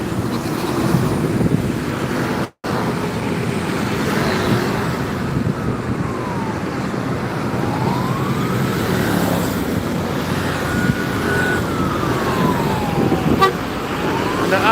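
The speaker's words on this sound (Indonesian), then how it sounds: "Ada ambulan." Ambulance on a road with its siren wailing in slow rising and falling sweeps over steady traffic rumble, moderately distant, with a brief dropout early on and a short horn toot near the end.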